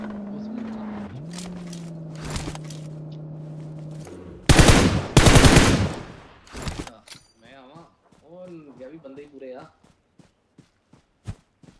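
Gunfire in the mobile game BGMI: a loud burst of rapid automatic shots, then scattered single shots and footsteps, with a voice talking and in-game engine sounds before it.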